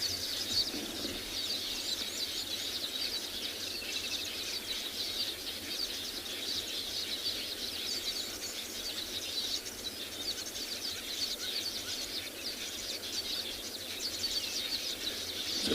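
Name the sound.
birds calling at sunset on safari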